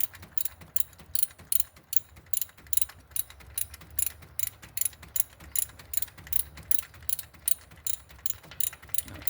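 Ratchet tightening a Nox coolant temperature sensor, a rapid run of sharp clicking strokes in a steady rhythm, close but fairly quiet with no voices.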